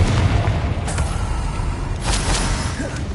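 Confringo blast spell firing in the video game Hogwarts Legacy: a loud, broad booming burst with low rumble that swells again near the end, continuous and alone with no talk.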